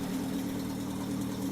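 Car engine idling in The Long Drive video game, a steady low rumble holding evenly throughout, fairly quiet with no talk.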